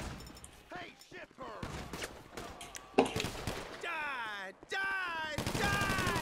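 Shotgun blasts and scattered gunfire in GTA Online during a Bikers mission, heavy reports breaking through while players chatter loudly over the action.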